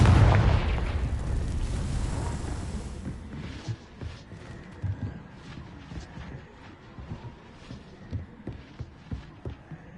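Confringo fire-blast spell in Hogwarts Legacy, a big roaring explosion that decays over about three seconds into a series of sharp crackling pops and thumps scattered through the rest of the clip.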